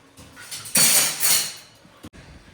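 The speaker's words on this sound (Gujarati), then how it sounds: "વાસણ ભેગા કરીને લુવાય છે અને લુવાઈને મુકાય છે અંદર" Household utensils are gathered, wiped and put away, a loud clattering jumble of metal and dishes knocking together for about a second, then a single sharp clink, with no talking.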